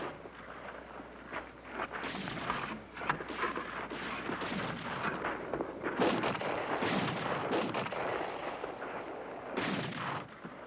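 Artillery fire in a film scene, a series of heavy booming blasts with rumbling decay, several close shots spread across the stretch over a continuous low background.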